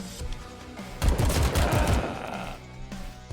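A fast burst of automatic gunfire erupts in the roguelite bullet-hell game AK-xolotl, loud and rapid for about a second amid game sounds, with no talking.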